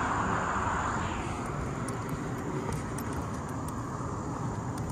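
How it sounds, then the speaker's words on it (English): A steady, broad engine roar drones in the distance, the even rumble of an airplane passing overhead with no voices. "I knew I heard a plane."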